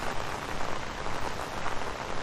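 Heavy rain pours outdoors in Mooresville, North Carolina, near Lake Norman, a dense, even roar of drops hitting surfaces with no voices.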